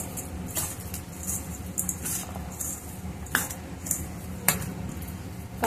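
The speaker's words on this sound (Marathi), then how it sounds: "मिक्स करून घेऊया।" Spiced bread pakoda filling being mixed in a bowl with a spoon, giving soft squishy stirring and occasional light clinks of the spoon against the bowl, faint and close.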